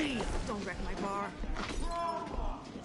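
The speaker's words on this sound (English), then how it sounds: "And you hear a glass break." Glass shatters in a Batman video game bar scene, a bright crash and tinkle heard beneath game voices and background music.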